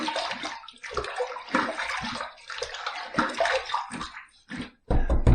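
Water is splashed onto a face before a shave with shave soap, a series of close, uneven sloshes and splatters coming in bursts with short pauses, and no talking over them.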